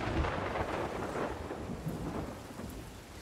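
Thunderstorm in the pirate video game Sea of Thieves: a continuous rumble of thunder over heavy rain pattering on surfaces, loud and unbroken for a few seconds with no voices.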